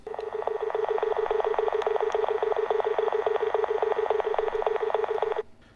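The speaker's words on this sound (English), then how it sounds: "They were making a mysterious but creepy dial tone." A telephone landline gives an eerie, pulsing tone that beeps rapidly and evenly for about five seconds, then cuts off abruptly.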